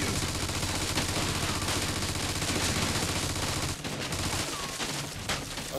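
Sustained machine gun fire in Mafia II, a dense continuous rattle of rapid shots that keeps a steady pace with brief dips, loud and close throughout.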